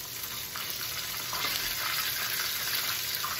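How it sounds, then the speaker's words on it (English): Steady, crackling sizzle of chicken strips frying in a pan, continuous and fairly close, with no talking. "You hear the sizzle?"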